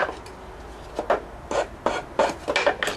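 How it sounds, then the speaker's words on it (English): A wood rasp files wood trim in about eight short scraping strokes, each a crisp, close rasp separated by brief pauses. "I use this rasp for all kinds of stuff."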